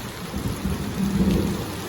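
Heavy rain pours down in a dense, continuous hiss with a low rumbling undertone, steady and close, no voices.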